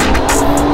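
Car traffic on a busy Times Square street heard from a scooter, a loud, steady roar of engines and road noise with a few brief higher hisses across a short moment.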